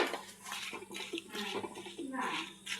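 Water boiling in a pot as tomato and apple are dropped in, a soft bubbling, splashing wash with light clinks of cookware, close and fairly quiet.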